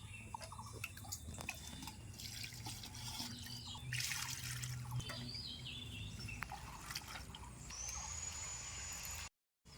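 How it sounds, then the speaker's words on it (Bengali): Fresh nali leaves are washed in water by hand, with faint splashes, drips and soft rustling in quick irregular bursts, quiet and close, before a brief cut to silence near the end. "নালি পাতাগুলিকে আমি ভালো করে ধুয়ে নিয়েছি"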